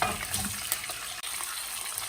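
Onions fry in butter in a pan with a steady close sizzle and crackle, a few soft stirring scrapes and one brief break in the hiss, no talking.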